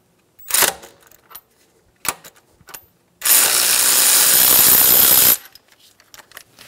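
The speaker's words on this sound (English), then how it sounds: "Remove the crank bolt." A ratchet works the crankshaft bolt loose on a 2010-2014 Subaru Outback during timing belt replacement: a few sharp clicks, then a loud sustained ratcheting burst of about two seconds, close up.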